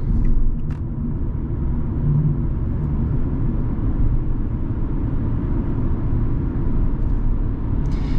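Steady, loud low engine drone and road rumble from inside a Fiat Egea 1.4 sedan driving, continuous for the whole stretch with no talk.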